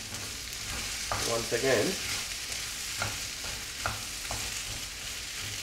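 Potatoes coated in turmeric fry steadily in a pan for an Oriya aloo posta dish, with a spoon scraping and stirring in repeated strokes over the constant close sizzle; a voice speaks briefly near the start.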